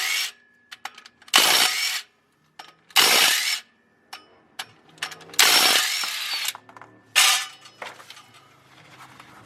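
A hand tool or power tool loosening the flywheel bolts on a Nissan Silvia during a clutch install, in about five loud, harsh bursts of a second or two each, separated by quiet gaps and fainter mechanical clicks.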